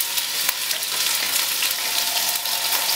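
Wild caught shrimp frying in olive oil with salted garlic in a pan, a steady bright sizzle with faint crackles throughout and no voices.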